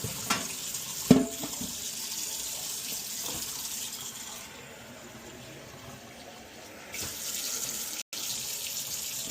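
Water runs steadily from a kitchen tap into a pot for cooking rice, a continuous hissing splash that briefly dips and thins midway, then returns to full flow.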